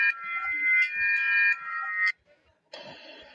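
Philippine emergency alert system alarm from 2009, a loud sustained electronic buzzing tone that cuts off briefly, then resumes with a harsher, noisier burst.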